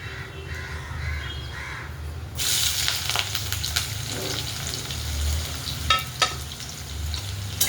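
Sliced onion and curry leaves frying in oil with a steady sizzle. The hiss gets louder after a burst partway through. Crows caw in the background and there are a few stirring clatters.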